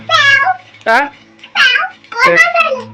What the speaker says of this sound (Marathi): मांजर वरडायला बाबा